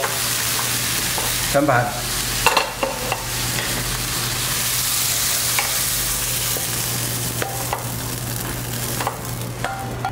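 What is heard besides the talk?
stir-frying pepper shrimp in a wok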